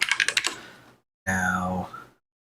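A short quick burst of keystrokes on a computer keyboard as code is typed, closely miked, followed after a pause by a sustained tonal sound.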